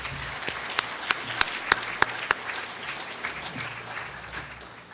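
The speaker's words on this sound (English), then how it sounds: "please, let's have a round of applause for all of our friends and funders." Audience applause at a New School event on transforming New York City schools, thanking friends and funders; a few sharp, loud individual claps stand out over a softer bed of scattered clapping that fades toward the end.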